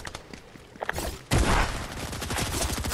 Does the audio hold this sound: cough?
no